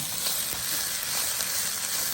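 Fried rice with omelette crackles and sizzles continuously in a hot pan, a close, steady frying hiss with faint stirring scrapes and no talking.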